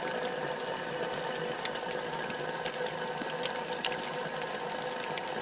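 A steady, dense churning gurgle from a Propex heater exhaust on a Vanagon Westfalia van, with faint irregular pops and ticks, continuous and fairly close.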